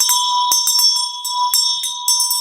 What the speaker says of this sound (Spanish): usar campanitas como estas